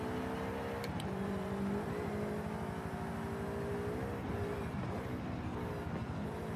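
A rally-cross car in the racing game Rally Adventure drives with a steady droning engine whine that shifts pitch slightly as it corners, heard alone at a moderate level with no talk.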